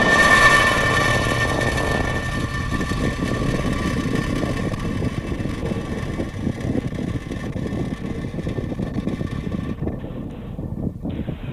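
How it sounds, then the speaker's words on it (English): A SpaceX rocket carrying NASA's TRACERS mission lifts off with a loud, continuous broadband roar and rumble. It stays heavy and steady, then cuts off abruptly near the end. "Ignition. And liftoff. Go SpaceX, go Tracers."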